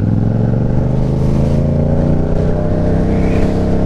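A Yamaha MT-07 motorcycle engine drones steadily at cruising speed, close and loud, with wind rushing past throughout and no talking.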